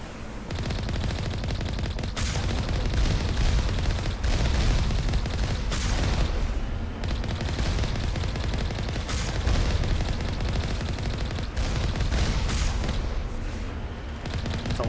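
Constant gunfire in the video game Mass Effect: Legendary Edition on the Virmire mission, a dense automatic rattle of shots with occasional heavier booms that goes on without a break, loud and close.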